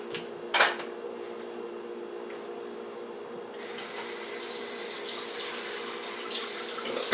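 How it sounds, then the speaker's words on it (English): Water from a tap pours steadily into a kitchen sink holding greasy pans, growing louder and brighter partway through as the flow picks up, with a faint clink near the start. "get those pans into the sink and get some water and get some soap into them"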